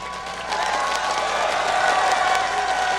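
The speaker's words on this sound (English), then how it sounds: "Give them a cheer." A crowd at the League of Legends Season 2 World Championship cheers and applauds continuously, a steady wash of clapping and shouting that swells slightly after the first half second.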